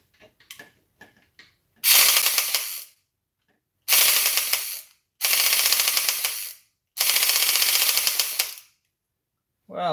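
A repaired toy blaster's motor whirs in loud, harsh ratcheting bursts of about one to two seconds, separated by short pauses, after a few brief clicks.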